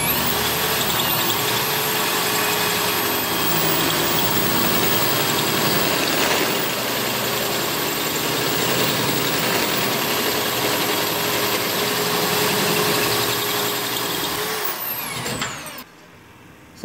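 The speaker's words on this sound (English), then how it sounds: "take our disc sander, which you can probably hear in the background slowing down" A disc sander whirs with a steady, broad hum in a workshop as it winds down. The whine lingers at an even level, then fades and cuts off near the end.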